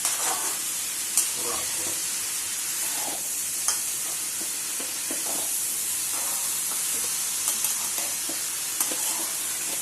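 Ridge gourd frying with masala in a pan, stirred steadily with a constant sizzle and occasional scraping clicks, close and alone.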